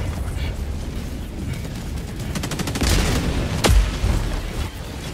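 Gunfire in the Helldivers 2 video game, a dense crackling fusillade with rapid bursts and a sharp louder boom near the end, continuous and loud throughout.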